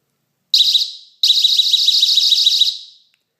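A wireless home security alarm rated at 120 decibels blares a very loud, piercing electronic siren up close, a short burst followed by a longer warbling blast that cuts off abruptly.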